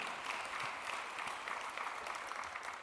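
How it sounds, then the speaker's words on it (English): Audience applause at the ACLU of Michigan annual dinner: steady, fairly faint clapping from a crowd that continues evenly throughout with no talking over it. "You can applaud for him."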